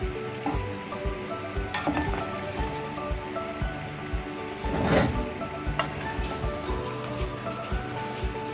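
Close, continuous bubbling sizzle of muthiyas deep frying in fresh hot oil, with crackles and occasional louder spatters and stirring clatter.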